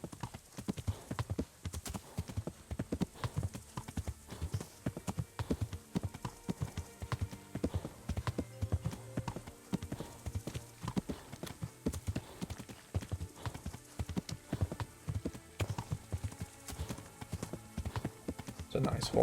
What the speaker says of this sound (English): It's a nice horse.